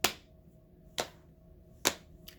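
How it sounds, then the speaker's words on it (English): Three sharp, close hand claps ring out about a second apart, followed by a fainter fourth, each one alone against a quiet room. "So we're going to start by clapping our hands."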